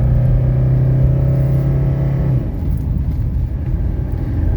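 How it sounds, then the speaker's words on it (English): A 1985 Mercedes 300D diesel engine revs hard after a transmission kickdown, a loud, close drone with a steady pitch that cuts off partway through and leaves a rougher road-and-engine rumble. "I'm going to test the transmission kickdown switch now."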